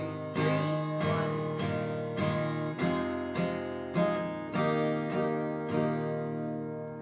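An acoustic guitar plays interlude chords in a beginner strumming pattern. About nine evenly spaced strums ring out close and clear, each chord decaying before the next, with no voice.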